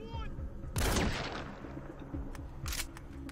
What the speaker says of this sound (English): This guy better not know where the gunshot came from.